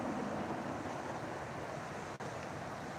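Steady rushing of fast-moving river water at a riverfront park near a swinging bridge, a continuous broadband roar with some wind noise and no talk.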